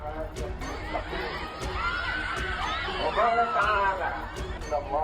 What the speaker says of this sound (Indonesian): Sejumlah ibu-ibu yang ketakutan melihat aksi tawuran pun berteriak hingga suasana makin mencekam.